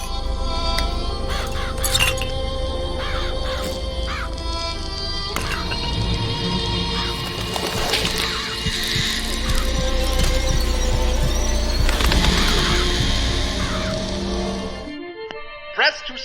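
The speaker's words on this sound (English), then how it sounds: "Press to summon murderous crows." In Bioshock Infinite, a summoned flock of murderous crows caws and screeches through a dense, continuous game mix of music and effects, the harsh calls swelling midway and again near the end before cutting off.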